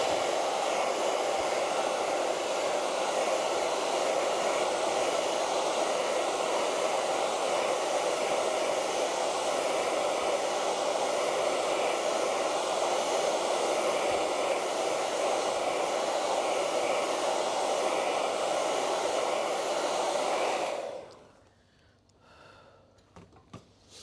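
A hair dryer blows steadily and loudly at close range for about twenty seconds while drying a painting, then switches off into near silence.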